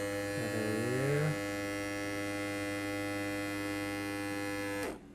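A Wahl Detailer hair trimmer runs after a spring repair, giving a steady loud electric buzz with a strong mains-like hum, briefly wavering early on, then cutting off abruptly near the end.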